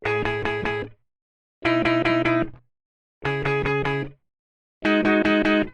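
A sampled guitar from a free Kontakt guitar library plays four short, distorted strummed chords. The bursts are evenly spaced and separated by clean silences, loud and dry, with no voices.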